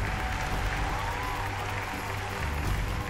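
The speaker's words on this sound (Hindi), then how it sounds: "तो पूरा हॉल तालियों से गूंज उठा।" An audience fills Kamani Auditorium in New Delhi with applause at a Hindi Academy award ceremony, a dense, continuous wash of clapping from many hands that carries through the hall without pause.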